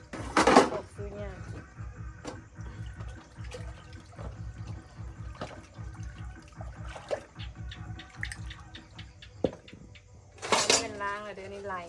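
Dishes, pots and cutlery being washed under running water, with clattering and clinking spread throughout, a few louder knocks and splashes, and people talking at times.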